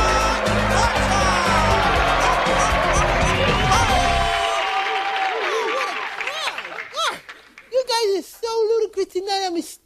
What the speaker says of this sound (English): Let's give a big hamburgeristic applause for Iron Man.